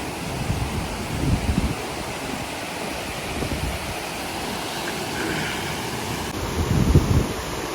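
Gandahati waterfall rushes continuously as a dense, broadband roar, with wind buffeting the microphone in gusts, strongest near the end.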